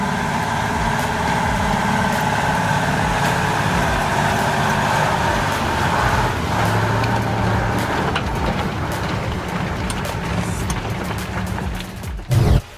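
A Ural truck hauling pipes ploughs through sludge, its engine a loud, continuous droning rumble throughout, with a short knock near the end.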